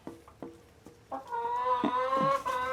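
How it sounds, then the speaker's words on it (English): Chickens clucking in a farmyard, a few separate short clucks at first, then a rising, sustained, strained squawking call that carries on loud and close to the end, with no talk over it. "We're gonna try and get these chickens away because they're a pain in the ass."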